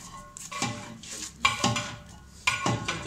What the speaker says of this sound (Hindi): अच्छी तरह से चमचा हिलाते रहेंगे